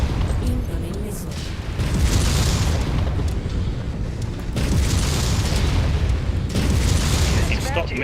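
Heavy booming missile impacts in Mechwarrior 5 Mercenaries roll and rumble in repeated surges, loud and close, with a sustained low battle din between blasts.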